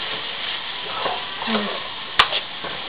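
Broad beans and tomato for avarakkai poriyal are stirred in a hot pan, a soft sizzle with scraping strokes and one sharp clack of the spoon partway through.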